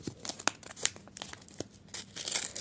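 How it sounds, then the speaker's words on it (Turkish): A surprise sticker package is torn open up close in quick crinkly rips and rustles of thin plastic wrapping, about a few seconds long with no talking. "Şimdi son paketimizi açıyoruz."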